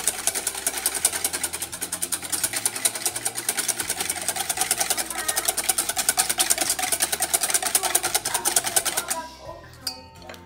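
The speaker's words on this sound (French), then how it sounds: "Je vais rajouter une cuillère à soupe de sucre. Et je vais mélanger le tout." Sugar being mixed rapidly in a bowl for French toast, a fast steady rhythmic whirring beat that runs for about nine seconds and then stops abruptly, leaving faint clatter.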